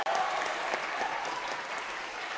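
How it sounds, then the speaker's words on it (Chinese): Audience applause after a piano contest, a dense, steady wash of clapping from a crowd that holds evenly from start to finish with no voices on top. "让我们再给两位一次热烈的掌声"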